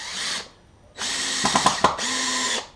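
A power drill without the clutch set drives a screw into an outrigger pad in three loud, close bursts of whirring, the middle one longest, with clicking and knocking as the screw bites.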